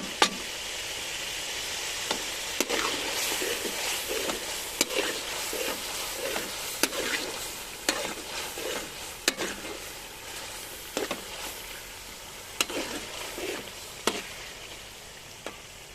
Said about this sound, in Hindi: अब इस मौके पे मैं हरी मिर्चें शामिल कर रहा हूँ। 8-10 हरी मिर्चें हैं।